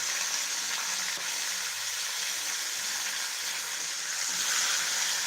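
Cluster beans (gavar) frying in hot oil in a home kitchen pan, a steady close broadband sizzle that holds evenly throughout with small crackles and no voices.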